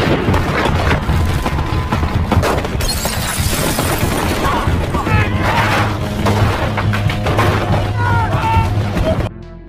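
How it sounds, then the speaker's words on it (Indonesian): A film shootout at a wedding party pits cartel gunmen against a former special forces soldier and FBI agents. Dense, loud bursts of gunfire and booms mix with shattering crashes throughout, then cut off abruptly at the end. "Jack pun sampai, dan terlibat baku tembak, dengan para anak buah Rincon"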